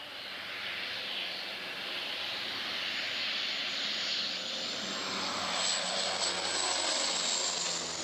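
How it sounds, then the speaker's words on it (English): A firefighting airplane roars overhead above a burning truck in Canada, a steady loud engine drone that swells slightly as it passes, with a high whine rising near the end and no talking. "A plane was called in to put out this truck fire in Canada."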